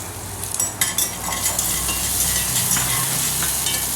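Plantain pieces and nuts sautéing in a pan for a sweet curry, a steady sizzle with scattered utensil scrapes and clinks of stirring, close and continuous.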